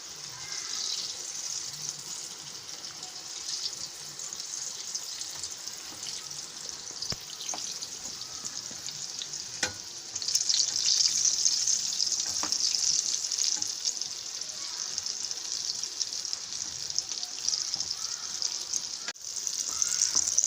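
Susiyam, sweet filled dumplings dipped in batter, deep-fry in hot oil with a steady, close hiss of bubbling that runs on without a break, with no voices.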